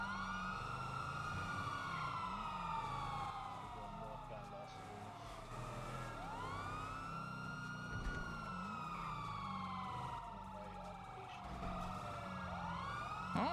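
Wailing emergency sirens sweep up and down continuously and loudly, with overlapping tones and a rumbling engine underneath, while a voice talks over them.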